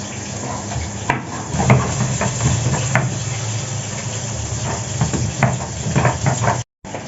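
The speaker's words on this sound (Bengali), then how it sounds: "এদিকে মাছ ভাজা হচ্ছে" Rui fish fries in hot oil in a home kitchen, a steady crackling sizzle up close, broken by occasional clinks of utensils and a brief cut-out near the end.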